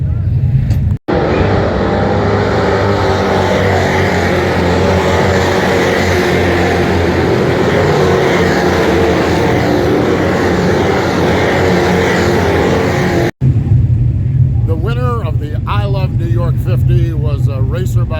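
Pro stock race cars roaring around the Oswego Speedway oval, a loud continuous engine drone filling the track, with a crowd or announcer voice audible near the end.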